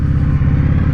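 A 2019 Indian Scout Bobber V-twin motorcycle with a 2-into-1 exhaust roars steadily at low revs with a deep, heavy exhaust rumble, loud and close, holding a constant low throb throughout.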